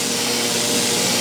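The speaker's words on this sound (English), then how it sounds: "Shake your can, make sure your nozzle on the top is clean, and just go very lightly on it." A spray paint can laying light coats on a Stratocaster guitar body, heard as a loud, continuous close-up hiss with no break for its brief length.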